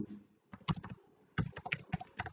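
Fingers type on a computer keyboard in quick, close clicking bursts, with a short pause between two flurries of keystrokes.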